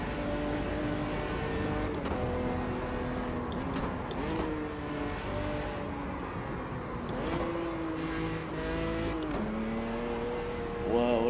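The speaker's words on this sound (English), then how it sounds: "It must be some old bumpy V8." Brazilian stock car V8 engine in a racing video game, an old, bumpy-sounding motor that whines low, holding a loud continuous drone with repeated rises and falls as it shifts and revs through corners.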